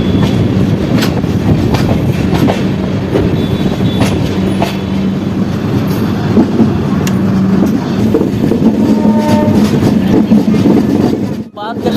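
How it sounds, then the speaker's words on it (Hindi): Garib Rath Express with new LHB coaches rolling out of Samastipur Junction over a gentle curve, a steady loud rumble of wheels and carriage noise with faint clickety-clack and wheel squeal throughout, while a voice talks over the train. "बाकी समस्तीपुर जंक्शन से निकलते हैं अपनी ट्रेन छोटा सा ब्यूटीफुल कर्व को जो है ना वो क्रॉस कर रही है।"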